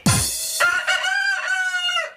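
A desi rooster crows once close and loud, a drawn-out cock-a-doodle-doo lasting about two seconds with no talking.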